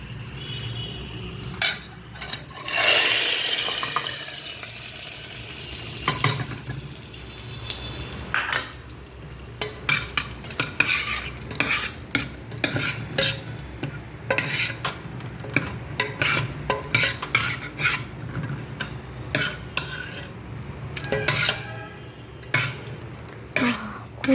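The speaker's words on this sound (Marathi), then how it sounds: "तर याला आपण या फोडणीमध्ये सोडूया." Browned garlic is tipped into a hot dal tadka tempering and stirred. The oil sizzles loudly at first, then settles into a hiss with repeated clinks and scrapes of a metal spoon against the pan.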